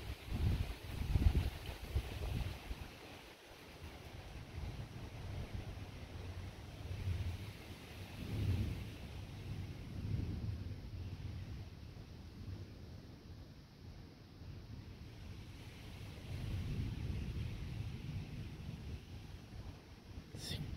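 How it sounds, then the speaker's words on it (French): Wind gusting into a space during a thunderstorm, a low, rumbling roar that swells and fades in broad waves across the whole stretch, with faint buffeting on the microphone. "Oh, le vent qui entre."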